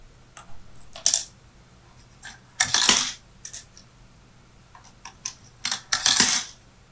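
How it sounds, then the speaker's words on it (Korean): Coins clatter into a euro-to-bitcoin coin exchange machine in several separate bursts of clinking metal, close and fairly loud against a quiet background. "유로를 라이트닝 네트워크를 사용해가지고 비트코인으로 바로 바꿔주는 동전 환전기라고 합니다"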